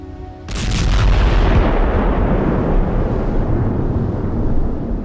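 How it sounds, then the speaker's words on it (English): A deep, loud torpedo explosion against a ship booms suddenly and then rumbles on heavily for several seconds, low and powerful, with no voices. "The Lusitania was then rocked by an explosion as the torpedo struck the ship"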